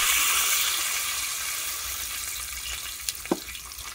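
Hot oil sizzles steadily, then a few small sharp pops crackle near the end as mustard seeds burst in the pan.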